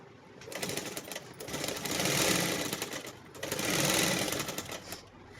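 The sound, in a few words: sewing machine stitching pant fabric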